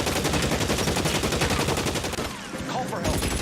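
Dense, rapid gunfire rattles in a shootout in the video game L.A. Noire, a loud continuous stream of shots that briefly dips before resuming.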